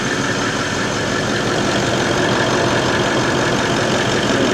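A Toyota 79 Series engine, just fitted with a new turbo, idles steadily and loud up close, a constant even drone with no talk over it.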